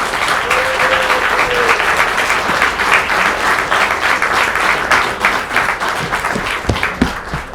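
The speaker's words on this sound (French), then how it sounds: "vous pouvez les applaudir" An audience applauds an autism theatre troupe after a light show at a museum, a loud, sustained wash of clapping from many hands that continues unbroken, with a few faint voices mixed in.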